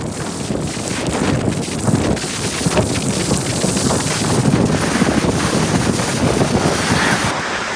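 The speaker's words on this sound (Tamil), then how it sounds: "என்ற அதிகளவான காற்று இன்றைய தினம் தான் அடிக்குது" Strong stormy wind roars across the sea coast at Keerimalai, loud and unbroken, buffeting the microphone while surf churns beneath it.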